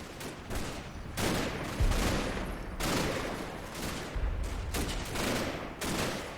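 Heavy machine gun teams trade fire in a Combat Mission battle around an apartment building, a dense, continuous fusillade of bursts with thumping low impacts and overlapping volleys, loud and sustained with no voices.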